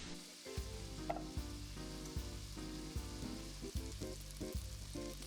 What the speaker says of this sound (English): into my preheated pot. I'm gonna add a ½ stick of butter.